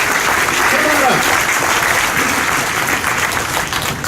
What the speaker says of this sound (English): Everybody give Alfred a big round of applause.